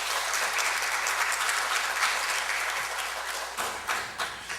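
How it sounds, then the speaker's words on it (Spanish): Applause rises from the audience at an international arbitration congress, a full, even roar of clapping that thins toward the end into a few separate, louder claps. "Fuerte aplauso para ellos y muchas gracias."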